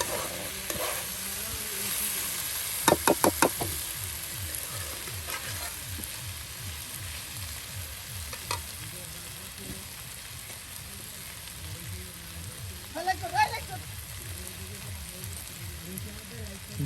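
Food sizzles and crackles in plenty of oil on a portable clay-and-cement stove, a steady frying hiss with stirring scrapes and a few sharp clicks, while voices murmur faintly in the background.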